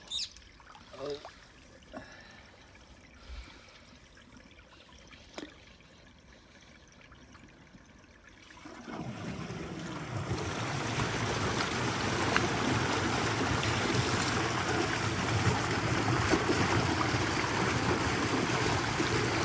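Water from a canal outlet gushes into a farm field, starting with faint trickles and quiet knocks before swelling into a steady, loud rushing flow.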